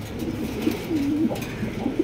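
Blue pigeons cooing in a low, soft, rolling call, close and clear, repeating a few times over a short stretch with no voices.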